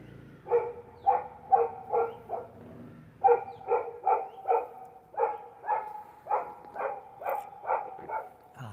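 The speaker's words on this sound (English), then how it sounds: "it's a noisy dog" A noisy dog in Pokhara barks in rapid bursts of four or five sharp yelps, pausing briefly between bursts. The barking is fairly close and carries clearly over quiet background with no talk.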